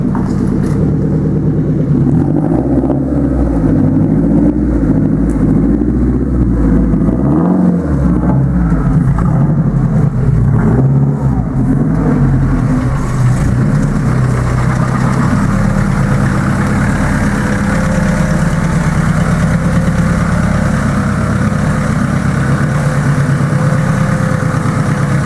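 A car engine fitted with a Turbonetics turbo rumbles close by, idling with a deep, uneven throb and a few swells in revs as it is driven in, steady throughout.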